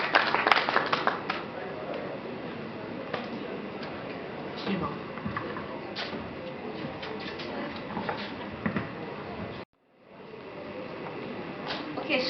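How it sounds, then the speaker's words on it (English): Scattered clapping from a conference audience, sparse and irregular with sharp individual claps, briefly cut off by a short silence before resuming. "Please, let's clap."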